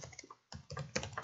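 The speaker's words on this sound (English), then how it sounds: "So let me write this down." Typing on a computer keyboard, with dense irregular clicks filling the clip around a brief pause, close and fairly quiet with no talking.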